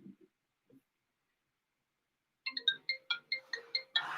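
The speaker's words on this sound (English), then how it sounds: "No, I'm getting a phone call." A phone ringtone for an incoming call plays a quick run of bright electronic beeps in a steady rhythm. Before it starts, a few faint soft sounds come through near silence.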